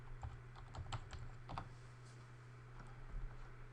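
A password is tapped out on a computer keyboard in quick, faint clusters of key clicks with short pauses between them.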